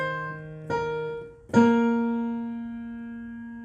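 Piano plays a short phrase from the chorus of a song: a sustained low note, then two struck notes, with the last one ringing and slowly decaying, close and clear.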